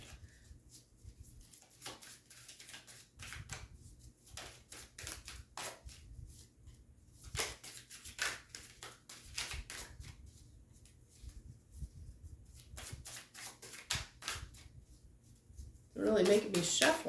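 Tarot cards are shuffled in repeated bursts of soft flapping and riffling, with quiet pauses between, near and fairly faint.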